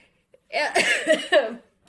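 A short burst of coughing, two or three quick throaty hacks close to the microphone, then silence.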